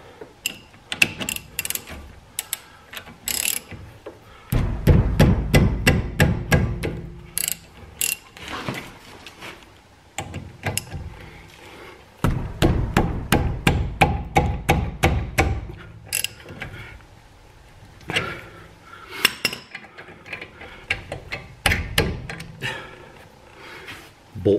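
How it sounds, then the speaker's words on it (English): A ratchet works the front brake caliper bolts loose on a Jeep Patriot, giving rapid runs of sharp metallic clicking in several bursts with short pauses between them, close up in a quiet garage. "first thing we're going to do is take out the caliper bolts"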